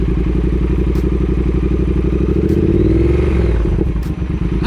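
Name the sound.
Triumph twin motorcycle engine revving with throttle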